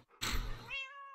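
A cat gives a single close meow in a game, opening with a noisy thump-like onset and then sliding into a clear tonal cry that fades out, with no talk.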